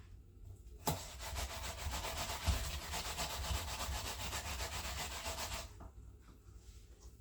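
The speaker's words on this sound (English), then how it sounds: "Grater in the yam, yellow yam." Yellow yam being grated on a grater for Jamaican sweet potato pudding, a continuous close rasping scrape of rapid strokes that starts abruptly and stops near the end.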